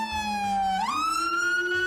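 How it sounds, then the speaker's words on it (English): A police siren wails steadily, then sweeps upward in pitch partway through and holds at the higher tone, loud and close with no talking. "usually consisting of several scenes of cop cars, sirens"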